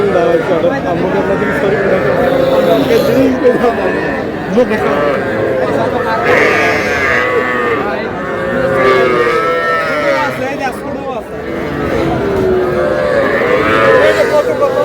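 Cattle low and moo repeatedly at a busy livestock market where young bull calves are sold, loud and close amid steady crowd chatter and people talking.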